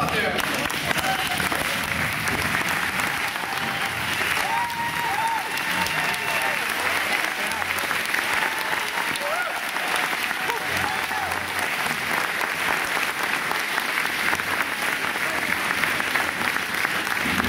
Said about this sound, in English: We would ask that all of the staff, past and present, please stand and please applaud them.